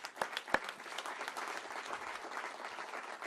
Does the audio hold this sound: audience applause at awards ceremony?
yes